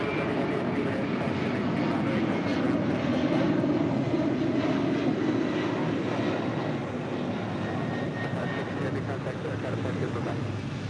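A Delta Boeing 767-300ER jet departs LAX bound for JFK, its engines a steady, broad roar that holds loud and even throughout, with faint voices in the background.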